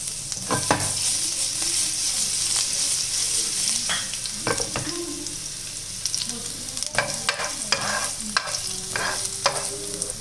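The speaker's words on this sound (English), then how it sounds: "Now add chopped ginger and garlic. Saute it." Chopped ginger and garlic sauté in a hot pan for a turkey pathiri dish, giving a steady close sizzle broken by repeated sharp scrapes and clinks of a spoon stirring against the metal.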